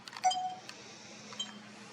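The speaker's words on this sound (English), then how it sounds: "what you heard there is me cranking up my infrared camera" An infrared camera powering up gives a few soft close clicks and a brief electronic beep near the start, then a faint steady background hum in an otherwise quiet setting.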